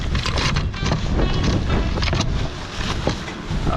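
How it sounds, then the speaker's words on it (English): Steady roaring wind buffets the microphone throughout in 30 to 35 knot gusts aboard a sailboat, with gusty surges and rushing water noise underneath. "We probably got 30, 35 knot gusts right now."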